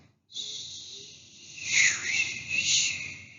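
A voice imitates blowing wind with a breathy, hissing whoosh that swells and fades in a few gusts, close to the listener.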